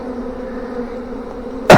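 A honey bee swarm hangs on a swarm trap, giving a steady, dense, droning buzz of many bees moving around close by. A sudden loud burst of handling noise cuts in at the very end.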